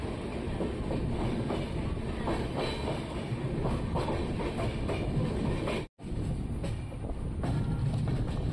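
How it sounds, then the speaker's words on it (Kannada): A local train on an Indian railway line passes close by, a steady loud rumble and rattle of wheels and carriages that continues throughout with a brief dropout partway. "ಈ ಕಡೆಯಿಂದ ಒಂದು ಟ್ರೈನ್ ಬರ್ತಿದೆ"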